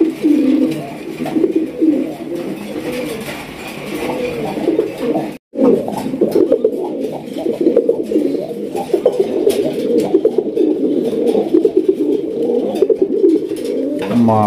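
Raj Golla pigeons coo continuously in deep, throaty, overlapping calls, loud and close, with a brief break partway through.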